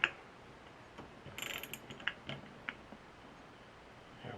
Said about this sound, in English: And I should have a socket for this. So we'll just snug that down.